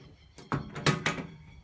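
A camper door being pulled open, giving a few close knocks and thunks in quick succession, with a rattling clunk as the latch releases and the door swings.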